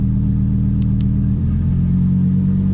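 A Lamborghini Aventador SVJ Roadster engine running in Corsa mode, a loud, close, continuous engine roar whose tone shifts partway through, with two brief clicks early on.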